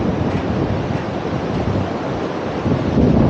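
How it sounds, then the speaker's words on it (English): Strong wind gusts sweep across a suspension bridge in a narrow mountain valley in Nepal, a loud, constant roar of buffeting air against the microphone that swells louder toward the end. "I realized just how windy it actually was the moment I set foot on the bridge."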